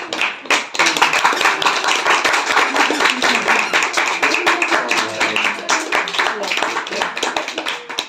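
Audience members at a ceremony clap steadily to honour a father being garlanded with flowers, producing a dense, rhythmic patter of hands with voices mixed in.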